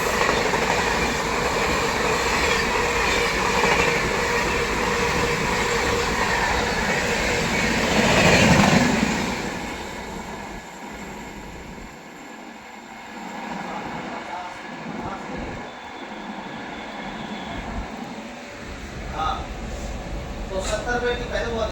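The Hazur Sahib Nanded express rushes past a railway crossing with a loud, continuous roar and rattle of wagons, swelling to a peak and then fading away into quieter background noise.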